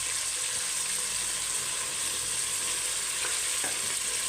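Chopped large onions and mint leaves sauté in hot oil inside a pressure cooker for mutton biryani, giving a steady close sizzle with a few soft stirring scrapes and no talk.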